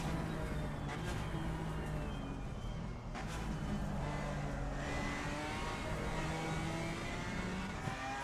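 A BMW M4 GT4 race car at Monza in Assetto Corsa Competizione revs hard and climbs through the gears, with brief dips at each upshift and a steady, loud engine drone.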